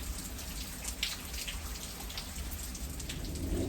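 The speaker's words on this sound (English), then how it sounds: "Rain is starting to slack up a little bit" Steady rain falls close by around a front porch, a dense hiss of drops pattering on surfaces that holds at an even level throughout, with no voices.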